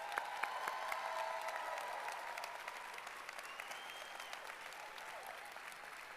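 Audience applause honoring teachers at a high school arts graduation ceremony, a soft, distant wash of clapping in a large hall with a few faint whoops and calls rising above it.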